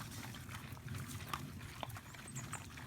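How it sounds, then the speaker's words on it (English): Pigs munching and snuffling at close range, a steady wet chewing noise with occasional grunts and a faint high electronic beep from a power inverter in the background. "Above the noise of the pigs eating."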